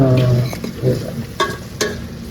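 Onions sautéing over a low flame in a pan for biryani, with a gentle sizzle broken by a few sharp stirring scrapes and clinks of a utensil, close and brief.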